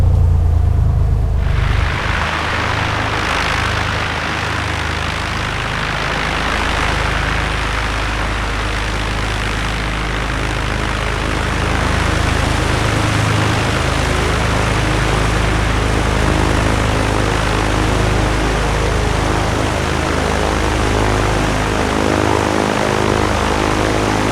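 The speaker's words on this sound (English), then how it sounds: "Every pilot who's flown a Skylane loves the engine sound." A Cessna Skylane six-cylinder piston aircraft engine in a flight simulator starts up and then runs steadily, a loud continuous droning rumble with propeller throb, lasting throughout with no voices.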